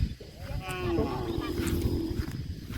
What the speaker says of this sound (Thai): เสียงวัวควายห้อง